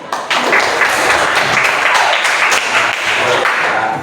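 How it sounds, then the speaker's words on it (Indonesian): A class of participants in a university teacher-training session bursts into applause, a quick rise into loud, close, continuous clapping that holds until the end. "Tepuk tangan."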